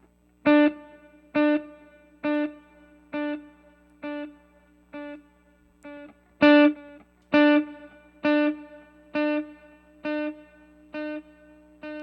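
Guitar played through a Line 6 Helix delay with reverb in the feedback loop, a steady series of a dozen evenly spaced plucked notes, each ringing with a bright decaying tail, with no voice.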